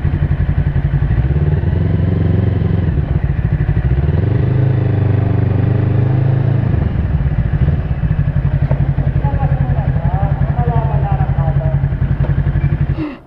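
An FKM Falcon x400 motorcycle runs on a test ride, its engine a steady loud rumbling drone with shifting revs and clattery texture throughout, close to the listener.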